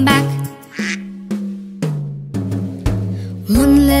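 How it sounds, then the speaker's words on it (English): A duck quacks repeatedly in a children's nursery rhyme, loud and close, with a steady series of separate quacks over musical tones and no one talking. "Mother duck said quack, quack, quack, quack"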